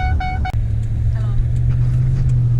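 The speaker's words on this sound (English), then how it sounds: "I love this truck." An old farm pickup truck drives along with a steady low engine drone and road rumble inside the cab, opening with a few brief chiming beeps.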